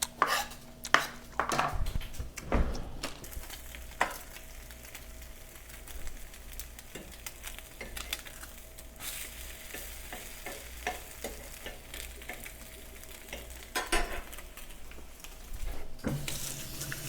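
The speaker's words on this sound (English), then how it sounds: "So the turkey bacon is cooking" Turkey bacon fries in a pan with a low, steady sizzle, while sharp knife chops on a cutting board and clinks of utensils come and go in an irregular rhythm in a home kitchen.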